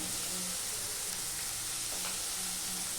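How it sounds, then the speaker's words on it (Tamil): Onions sizzle steadily in a pan, a dense crackling hiss with faint stirring scrapes mixed in, continuous and close. "வெங்காயம் வதங்கட்டும்"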